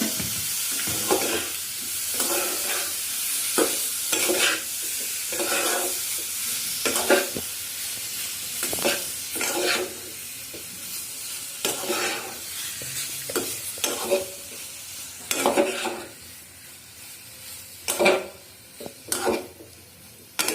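Boiled potatoes being stirred and fried in a pan for aloo curry, with a steady sizzle broken by repeated close scraping stirs at an uneven rhythm; no one speaks.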